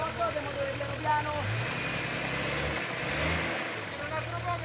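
An off-road 4x4 vehicle engine idles and revs gently at close range during an off-road trial, a steady low rumble running under excited talking throughout.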